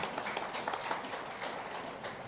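Audience applause at a national policing summit, a dense, even wash of clapping from a large crowd heard from a distance, sustained throughout without pause.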